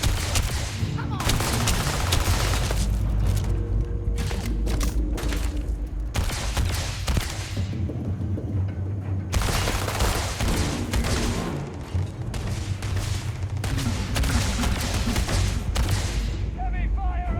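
Video game gunfire: dense, continuous volleys of shots and booming blasts, loud and close, with rapid bursts layered over a heavy low rumble and a voice talking briefly over the battle.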